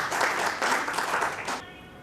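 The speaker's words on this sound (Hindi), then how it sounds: "तो तालियों से इनका स्वागत करिए।" An audience at a patriotic celebration event applauds to welcome a speaker. The steady clapping lasts about a second and a half, then stops abruptly.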